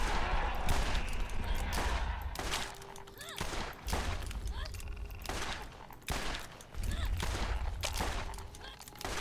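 Rapid bursts of gunfire crackle in the video game Borderlands, with repeated volleys and brief pauses between them over a continuous game soundscape.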